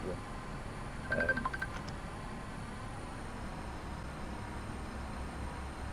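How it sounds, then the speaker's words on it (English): A brief electronic phone ring chirps once against a steady low rumble of background noise, then fades, leaving only the constant hum. "my phone just went off, so if you heard that ring, I do apologise."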